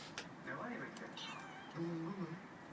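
Several cats meow in short, overlapping calls close by, with a person talking over them.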